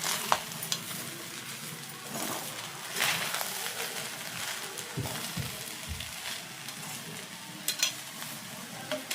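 Vegetables being stir-fried over high flame in a pan for fried rice, a steady sizzle with scraping stirs and occasional utensil knocks throughout, close and moderately loud, with no talking.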